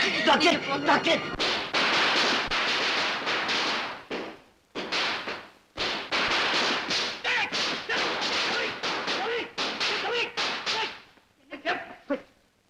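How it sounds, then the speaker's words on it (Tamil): Diwali firecrackers burst in dense, loud volleys of sharp cracks and bangs, running almost continuously with a few brief pauses and thinning to scattered pops at the end, with voices mixed in. "தீபாவளிக்கு பட்டாசு வெடிக்காம வேற எப்ப வெடிப்பாங்க?"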